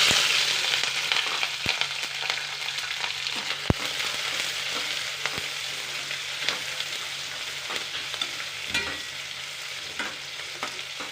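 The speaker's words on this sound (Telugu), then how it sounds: "ఇప్పుడు ఉల్లిపాయ ముక్కలు పచ్చిమిర్చి ముక్కలు వేయాలండి" Chopped onions and green chillies fry in a pan of hot oil with mustard seeds and cumin. A bright, continuous sizzle is broken by the occasional clack of a spatula stirring.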